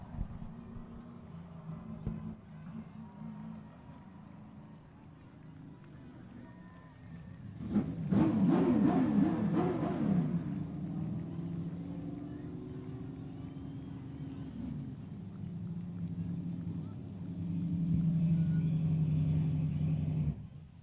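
A late model stock car engine at Seekonk Speedway on a 2008 opening-day victory lap. A steady drone swells into a loud, revving pass midway, then settles back to a distant rumble, with faint voices at times.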